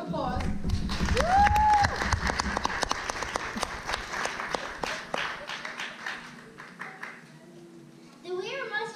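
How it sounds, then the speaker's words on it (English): A theatre audience gives a sustained round of applause as performers are called to the stage at a stage show, with the clapping strong at first and then thinning out. Voices are heard briefly at the start and again near the end. "Round of applause"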